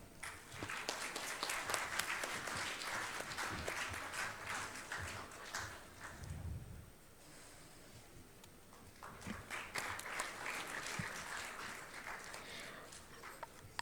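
Audience applause at a conference event, a steady patter of many hands that fades to near silence midway, then resumes at a similar moderate level.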